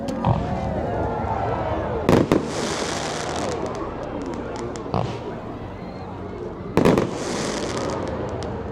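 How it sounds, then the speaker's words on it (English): A fireworks display at a pub, with sharp bangs near 2.2, 5 and 6.8 seconds and crackling bursts over a steady background of crowd voices. "So there we go, there's the fireworks."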